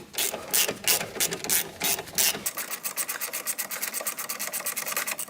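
Wrench ratcheting as brake caliper bolts are tightened hard on a Peugeot 107 / Citroën C1 / Toyota Aygo front brake, a close, loud rasping rub that becomes a fast, steady run of clicks with no talking.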